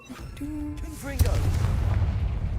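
Confringo fire spell blasts in the Hogwarts Legacy video game, a rapid series of booming impacts that rumble on steadily after a brief tonal cast sound, loud and close.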